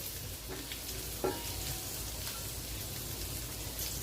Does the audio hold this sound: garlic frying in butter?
yes